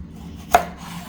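One sharp knife chop cuts through a thick artichoke on a cutting board, a single crisp thunk in an otherwise quiet kitchen.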